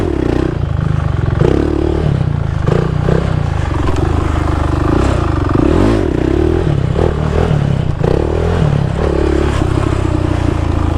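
A motorcycle ridden while practicing wheelies and sit-down moves, its engine droning and revving steadily throughout, loud and close, with clattering and scraping bursts over the motor.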